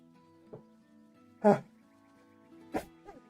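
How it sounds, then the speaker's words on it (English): A single sharp sneeze bursts out mid-clip, loud and close, among quieter mouth noises and a second short burst later, during a casual live stream. "I'm gonna sneeze"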